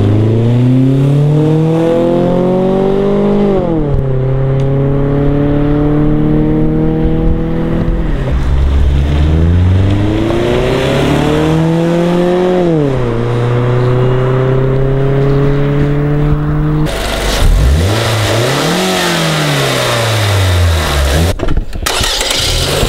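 A Scion tC fitted with a Borla S-Type exhaust and an AEM cold air intake revs hard again and again, close and loud. The engine note climbs and falls in repeated sweeps, with no talking.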